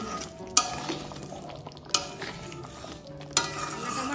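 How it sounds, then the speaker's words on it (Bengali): A spoon stirs ground garam masala into a thick, oily paneer milk gravy in a pan, giving soft scraping with a gentle sizzle and three sharp metallic taps against the pot. "গরম মশলা গুঁড়োটাও ভালোভাবে মিশিয়ে নেব।"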